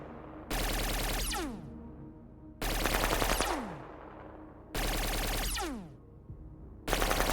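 Bursts of automatic gunfire from the video game Shadow Empire, three loud sustained volleys a couple of seconds apart with a fourth beginning, each trailing off into descending whistling tones between near-silent gaps.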